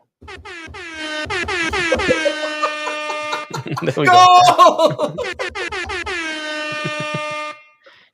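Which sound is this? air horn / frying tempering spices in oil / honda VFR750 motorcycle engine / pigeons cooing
air horn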